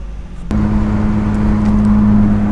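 A BMW E36 drift car on a test drive, its engine note jumping up sharply and then holding a steady, loud hum with a rising tone, close and with no talk.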